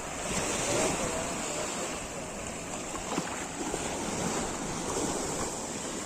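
Tyrrhenian Sea surf at Torvaianica beach rolls in as a constant broadband wash, with wind buffeting the microphone and gentle swells of loudness as waves break nearby, no voices.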